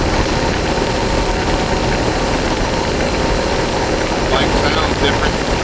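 A CFMOTO IBEX 450 motorcycle with a tuned ECU pulls hard under acceleration, a loud, steady engine drone mixed with wind rush, close and continuous, with a voice briefly over it.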